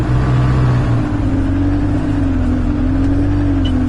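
A car engine in a driving sim game holds a steady, loud drone with a smooth rising and falling pitch throughout, with no talk over it.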